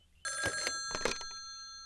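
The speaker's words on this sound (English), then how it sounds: "It's the phone! It's the phone!" A telephone bell rings in bursts in an indoor home setting, loud and close, with a sustained ringing tone and a brief break between rings.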